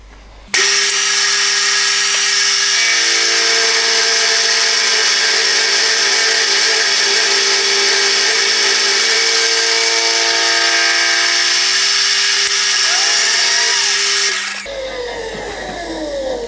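A machining cut on a copper 3D printer heater block held in a vise, a loud, steady whirring drone of the spinning tool that holds evenly for about fourteen seconds before winding down.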